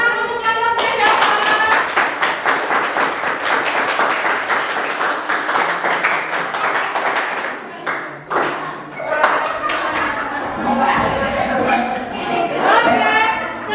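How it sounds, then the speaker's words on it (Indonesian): Classroom applause for a student group: dense, continuous clapping from many hands fills the room for over ten seconds, with a brief dip midway and some voices mixed in. "beri tepuk tangan untuk kelompok yang jawab"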